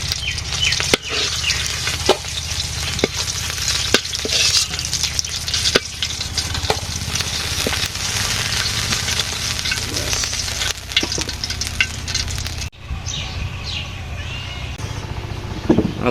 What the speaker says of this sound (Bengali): আমি মাছ ভাজি করছি